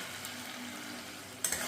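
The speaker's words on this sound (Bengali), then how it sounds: "দিয়ে ভালো করে মশলার সাথে একটু কষিয়ে নেব।" Fried potatoes and cauliflower are turned in a spice masala in hot oil, giving a continuous sizzle with soft scraping from the spoon, close and steady, ending in a pair of brief louder clacks.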